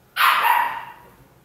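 A puppy lets out one loud, close bark that trails into a brief whiny tail, then fades, with no talk.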